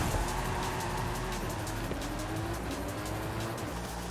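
Car engine in Forza Horizon 5 driving at steady high revs, a continuous loud engine drone with rising harmonic tones, filling the whole moment with no pauses.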